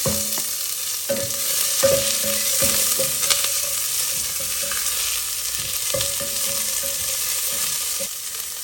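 Half an onion and a few curry leaves sizzle loudly in hot oil for a South Indian green beans poriyal, a constant bright frying hiss with a series of spatula scrapes and taps in the first few seconds, close up and without talk.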